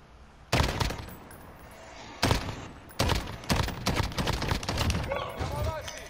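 Gunfire from a gold SCAR rifle in the Modern Warfare Warzone video game comes in sharp bursts, several separate volleys of rapid shots with short pauses between, fairly loud against a quiet background.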